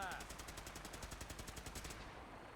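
Rapid automatic gunfire in the Fallout 4 video game, with soldiers shooting at a parked vertibird. It comes as a steady rattling burst of evenly spaced shots over about two seconds and then cuts off, leaving a low hum with faint voices underneath.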